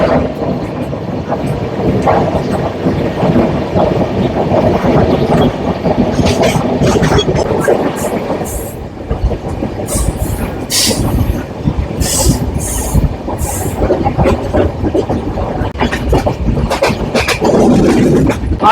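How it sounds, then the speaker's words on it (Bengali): A train pulling out of Mumbai CSMT station roars with a loud continuous rumble and rattle, with high wheel squeals and clatter breaking through in the second half. "ফাইনালি আমাদের ট্রেন ছেড়ে দিল সিএসএমটি স্টেশন।"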